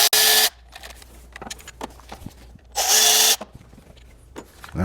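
A power tool with a socket spins out 12mm and 10mm bolts on a car engine in two loud whirring bursts, with quiet clicks and rattles of metal between them.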